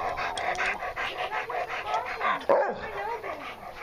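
A pet dog pants rapidly and steadily close by, with a sharp bark or yip breaking in near the middle, while people talk in the background.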